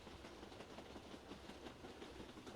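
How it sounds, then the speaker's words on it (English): A train runs on rails, a faint continuous rumble with soft repeating clickety-clack beats throughout, heard alone without talk. "And soon you feel the train slowing down."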